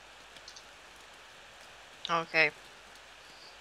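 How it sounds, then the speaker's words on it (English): Steady rain falls in the horror video game Corpse Party, a soft constant hiss in the background, while a voice speaks briefly over it. "Now it's raining."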